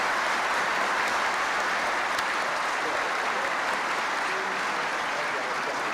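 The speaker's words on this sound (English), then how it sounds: "can we hear some applause for these very distinguished guests?" An outdoor Veterans Day crowd in 1993 applauds distinguished guests, a steady, fairly distant wash of clapping that holds even for six seconds without a break.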